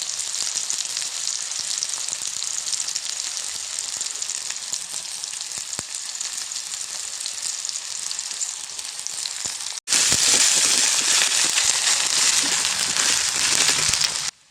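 Onion, ginger and garlic with vegetables sizzling loudly in a hot pan for making paneer butter masala, a steady bright frying hiss that grows louder and harsher after fresh vegetables drop in partway through.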